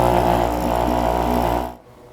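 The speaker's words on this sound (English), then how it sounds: "The machine might hum for a few seconds." Dupray ONE Plus steam cleaner humming steadily just after being switched on with a fresh fill of water, a loud continuous drone that holds for under two seconds and then cuts off abruptly into near silence.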